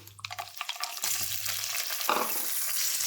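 Green peas dropped into a pan with ginger-garlic paste and frying, a sudden rush of loud hissing sizzle that sets in and holds steady, preceded by brief clattering.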